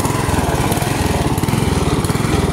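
A jacked-up lawn mower engine with a suspected intake manifold gasket fault runs loud and close in a fast, steady chug, with a slight stumble in its rhythm.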